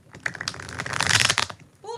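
Tarot cards being shuffled by hand, a quick burst of riffling and flicking texture lasting about a second and a half, close and fairly loud.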